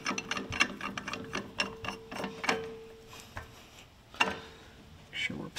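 A ball joint press screw is threaded on a Jeep JL Wrangler, giving close mechanical ratcheting clicks: a quick rattling run at first, then sparser single clicks and a few louder clacks.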